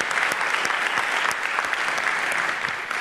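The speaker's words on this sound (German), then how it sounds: "Auch einen Applaus für Mitu." An audience at a live podium discussion claps warmly for a guest, a dense, even burst of applause that fills the room and holds steady throughout.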